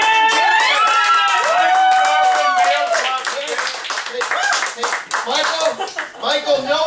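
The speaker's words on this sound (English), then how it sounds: "A round of applause." Studio audience clapping and cheering for a guest on a comedy show, loud and continuous, with voices talking and calling out over it throughout.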